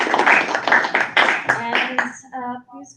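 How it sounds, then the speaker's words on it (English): A panel session audience at a naval history symposium claps in a short round of applause that fades within two seconds, followed by a voice speaking nearby. "So let's give everybody a round of applause."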